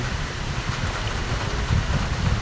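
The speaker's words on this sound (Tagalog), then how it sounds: "kaya lang talaga po ang hangin talagang malakas" Steady broadband roar of strong typhoon wind buffeting the microphone, low rumbling gusts with a hissing wash above, continuous and loud throughout.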